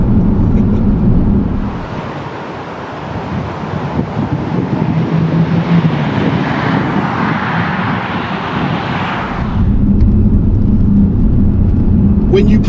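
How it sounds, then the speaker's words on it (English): A 2008 Bentley Continental GTC convertible's engine rumbles loudly and deeply under acceleration, with wind rush swelling in the middle, while someone talks over it throughout. "When you put your foot down in this car, it's like a jet fire lighting up the afterburners"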